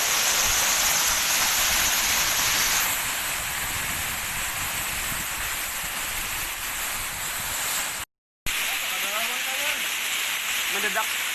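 The Bajuin waterfall in Pelaihari, Tanah Laut, South Kalimantan, roars in a constant loud broadband rush during light drizzle, then cuts out briefly before a nearby voice speaks over softer water.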